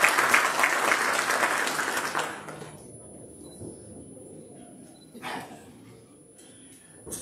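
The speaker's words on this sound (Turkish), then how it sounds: "proje takım liderimiz Sayın Esat Denizli bilgilendirme konuşmalarını yapmak üzere alkışlarınızla sahneye davet ediyorum" An audience at a business networking gathering applauds to welcome a speaker to the stage, with loud dense clapping for about two seconds before it drops away into a quiet room with faint stray sounds.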